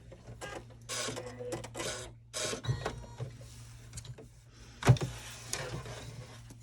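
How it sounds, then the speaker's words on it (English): An embroidery machine stitches a tiny placement circle in the hoop, giving a run of quick mechanical whirring bursts followed by a few clunks and a louder knock, quiet and close. "this is just going to stitch a tiny little circle for the placement line"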